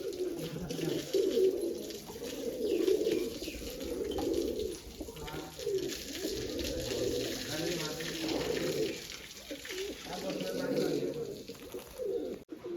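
Low, soft pigeon coos repeat steadily through the whole stretch, with a faint watery background hiss and no talking.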